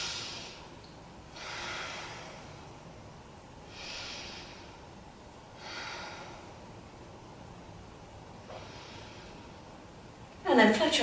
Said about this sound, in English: Let's take 3 big breaths.